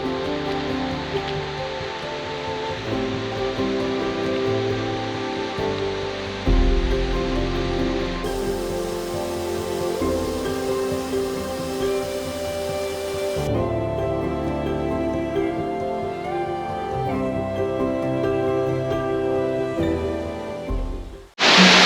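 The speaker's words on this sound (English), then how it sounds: "So we made it to the last falls, which is Winter Falls." Winter Falls at Silver Falls State Park gives off a steady, broadband roar of falling water. The sound is loud and constant throughout, with a brief change in tone partway through and a short burst at the very end.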